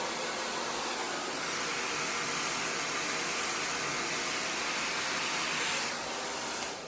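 A hair dryer fitted with a diffuser blows a steady, loud rushing whoosh of air while drying curly hair, continuous and close with no talk, easing slightly near the end.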